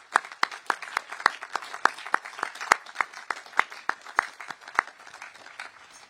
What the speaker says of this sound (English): Let's give a round of applause to our heroic survivors.